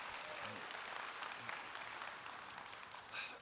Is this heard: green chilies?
no